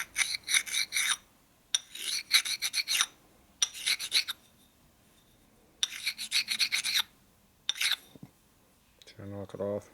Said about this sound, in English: So I'm gonna hit that with my sanding stone.